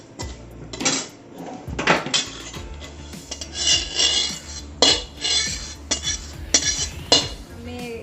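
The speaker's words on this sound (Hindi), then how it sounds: "देखंतु हम सुजी एबे फ्राई हे जाईची। आकु एबे हमें प्लेट रे काढ़ी देबा।" Fried semolina (suji) for a halwa scraped from a pan onto a plate with a utensil: several separate metallic scrapes and clinks, close and fairly loud, with soft rubbing between them.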